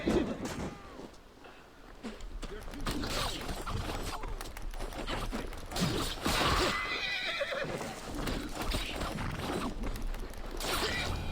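Horses in the video game Assassin's Creed Valhalla neigh and whinny repeatedly with hooves clopping, set against a busy, continuous clatter of movement.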